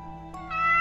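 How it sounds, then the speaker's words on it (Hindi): A house cat meows once, close and clear, rising at the end as it tries to be let back indoors in the evening. "मानो ने मियाओ मियाओ करके अंदर आने की कोशिश की"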